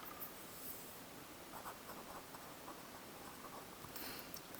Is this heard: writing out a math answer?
yes